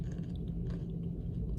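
Crunchy coconut chin chin, a fried dough snack, being chewed close to the mouth, a steady run of faint crisp crunching and munching with no talk.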